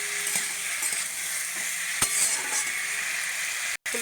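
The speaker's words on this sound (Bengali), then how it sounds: "ফুলকপি আলু মশলা একসাথে ভালো করে সুন্দরভাবে কষে নিয়েছি" Cauliflower and potato stir-frying with spices in a pan, an even, constant sizzle with occasional spatula clinks and scrapes, close and moderately loud.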